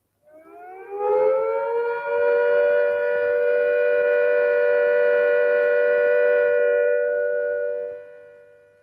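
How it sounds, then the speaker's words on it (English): A civil defense siren sounds the all-clear, rising quickly and then holding one steady, unwavering tone for several seconds before fading away, heard alone. "When the immediate danger of air attack or fallout has passed, the siren will sound a steady note like this."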